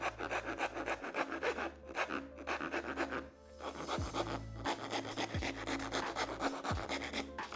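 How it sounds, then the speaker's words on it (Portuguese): A coarse rasp files a surfboard fin to its final outline in repeated, rhythmic back-and-forth strokes. The scraping is close and dry, with brief pauses between some passes. "agora com a grossa vamos realizar um ajuste para chegar no outline"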